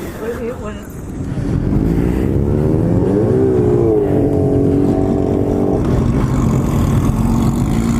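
Motorcycles on a group ride, including a Ducati Monster, Panigale and a KTM RC8, idle and then pull away, their engines rising and swelling in pitch and roaring loudly, with a voice speaking over them.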